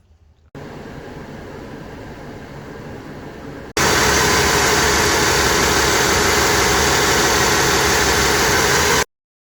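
Isuzu D-Max diesel with a DPCHIP-X module running on a dyno: a steady idle drone, then a sudden jump to a much louder, sustained high-rev roar that holds for several seconds before stopping abruptly.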